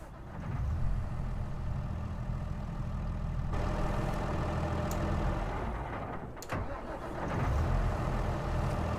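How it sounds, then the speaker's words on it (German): A simulated Deutz-Fahr tractor engine in Farming Simulator 22 cranks and catches, settling into a steady low idle rumble with a brief shift in tone partway through. "Lassen wir mal den Motor an oder die Hupe."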